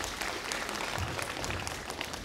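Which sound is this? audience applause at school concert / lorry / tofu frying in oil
audience applause at school concert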